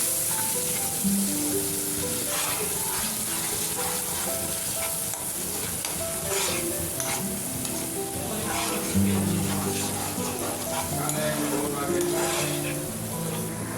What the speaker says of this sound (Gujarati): અને એ આપણી પેસ્ટ આપણે બરાબર હલાવીને સાતળવા દઈશું